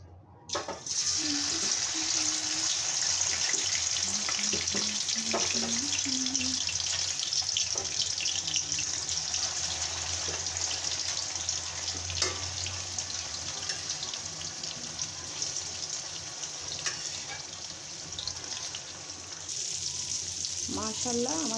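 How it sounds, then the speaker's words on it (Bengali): Eggs sizzling in hot oil in a wok, a steady bright crackle and spatter that runs almost unbroken for about twenty seconds, with occasional clinks and scraping of a utensil. "তেল গরম হয়ে গেছে। এখন আমি এই ডিমগুলোকে সুন্দর করে ভেজে নেব।"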